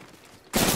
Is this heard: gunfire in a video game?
yes